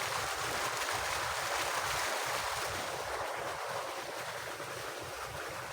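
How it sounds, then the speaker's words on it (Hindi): A water pump motor runs with a constant, loud rushing hum and the steady whoosh of water flowing through a pipeline to irrigate date palms. "तो यही पंप मोटर भी है, पंप सिस्टम है, तो फिर पाइप लाइन से पानी आ रहा है।"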